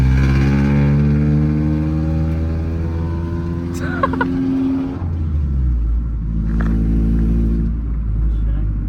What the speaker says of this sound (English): Do one crack vtec pull.